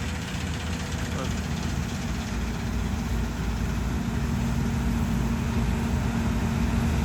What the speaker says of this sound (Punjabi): ਪਰ ਆਵਾਜ਼ ਨਹੀਂ ਬਦਲਣੀ ਇੰਜਣ ਦੀ